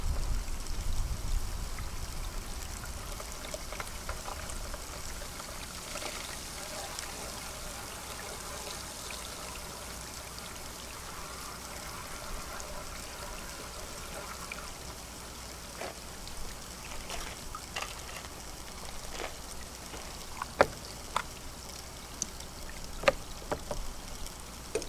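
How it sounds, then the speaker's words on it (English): Water sloshing and trickling as leftover material is washed out of a gold pan after sluice-based gold recovery, steady and moderately close, with a few sharper splashes and knocks near the end and no talking. "now I shall wash out what's left in the pan."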